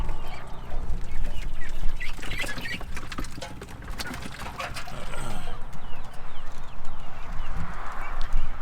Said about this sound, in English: So here's our ducks.